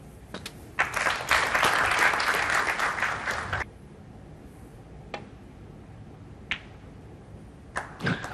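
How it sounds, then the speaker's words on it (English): Snooker crowd applause at the Saudi Arabia Snooker Masters final, a loud burst of clapping lasting a few seconds before it cuts off, followed by a few sparse isolated claps. "some people were starting to applaud."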